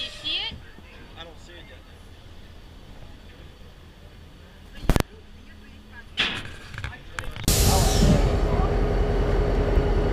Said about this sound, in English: This is the bike train.